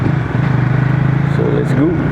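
A new WMOTO NX150S motorcycle idles nearby with a steady, throbbing engine pulse, loud and continuous, as a voice talks briefly over it.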